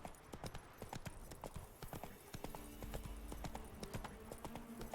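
Hooves of a horse cantering in the video game Witcher 3 clip-clop in a quick, steady rhythm, close and prominent over a faint game background.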